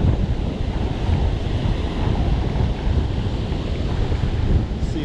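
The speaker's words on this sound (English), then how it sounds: "Sea's a little bit rough this morning now." Rough surf pounds a beach fishing spot at Pennington on a windy morning, continuous loud crashing and hissing waves with wind rumbling across the microphone, no voices.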